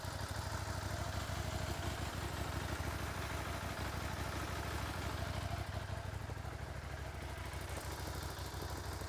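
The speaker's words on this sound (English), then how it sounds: "So this is the original exhaust." Motorcycle with its original exhaust idling, a steady low, even thrum at close range that continues unchanged throughout, with no voices.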